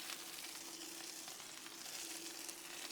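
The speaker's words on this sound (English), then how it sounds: "We're gonna put down a good bit of butter right here." Butter sizzles steadily on a Blackstone flat-top griddle, about to toast rye bread for patty melts, a continuous close crackling hiss with no talking.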